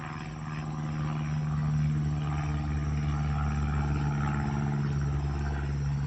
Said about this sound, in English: a plane's passing